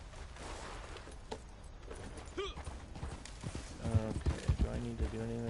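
Horse hooves clip-clop and gallop in Red Dead Redemption 2 online, a steady rhythmic pounding that builds louder toward the end over a busy game soundscape.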